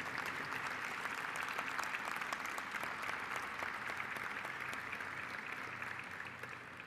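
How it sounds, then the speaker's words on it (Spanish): Applause from the audience at the inauguration ceremony of the 28th ABASTUR trade event, a steady, even stream of clapping from a large crowd, heard at a moderate distance and fading slightly at the end. "Ahora sí, un fuerte aplauso para todos ellos,"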